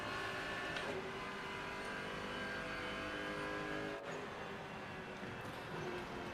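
A race car engine drones steadily in the Rennsport racing game, a sustained, fairly quiet tonal whine with slight shifts in pitch and one brief dip midway.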